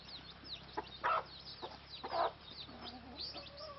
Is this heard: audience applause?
no